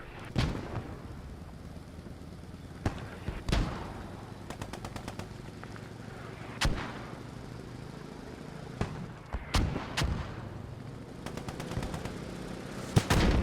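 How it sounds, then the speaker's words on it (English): Bursts of German machine gun fire in Post Scriptum, coming from ahead and to the left, short rapid rattling strings separated by sharper single cracks and distant booms over a steady battlefield rumble. "rate of fire of a German machine gun coming from in front and to my left"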